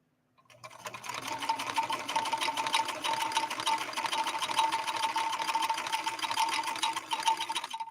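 A 1970s Kenmore 158.13520 sewing machine stitches continuously for several seconds, a close, steady, rapid mechanical whir and clatter that starts abruptly and runs without talk.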